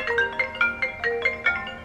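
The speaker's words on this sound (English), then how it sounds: "My phone's going off" A phone ringtone plays close by on its own: a bright melodic tone repeats in a quick, steady pattern of short notes, about eight pulses in two seconds, with no one talking over it.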